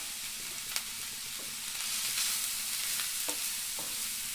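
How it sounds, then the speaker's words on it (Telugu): Grated carrot frying in ghee in a pan, a soft steady sizzle with a few light stirring taps, fairly quiet and without voices. "క్యారెట్ని ఇలా నేతిలో వేపించుకుంటే చాలా బాగుంటుంది, టేస్టీగా."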